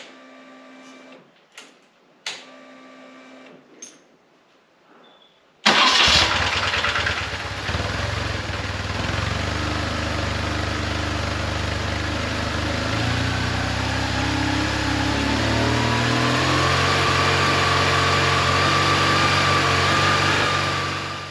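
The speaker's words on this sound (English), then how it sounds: "The engine is hunting for consistent RPM." A BMW GS1150 motorcycle engine with a fuel pressure fault cranks over after a few soft clicks, catches, and settles into a loud, close, uneven idle that keeps hunting up and down in revs.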